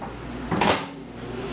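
A microwave door opened and shut during cooking with butter, one quick muffled clunk in the middle against a steady appliance hum.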